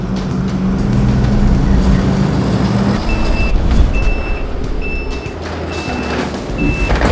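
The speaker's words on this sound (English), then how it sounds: "Just got one of our trucks in to drop off donations." A delivery truck backs in to drop off food-bank donations, its reversing alarm sounding as a string of about five evenly spaced high beeps over a loud idling diesel engine and air-brake hiss, with no talk.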